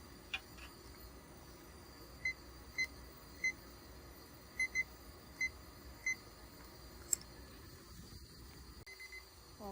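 Timer alarm in a lab preparing a P3HT and PVDF-HFP organic transistor: a string of short, faint electronic beeps, some single and some paired, spaced irregularly over a quiet room hum.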